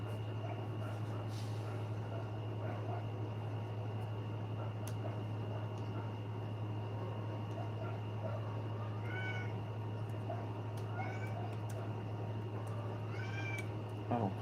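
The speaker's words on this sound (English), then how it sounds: "Oh, sorry, cat. I forgot to feed you, didn't I?" A hungry house cat meows several times, short rising calls near the end over a steady low electrical hum in an indoor room, no talking.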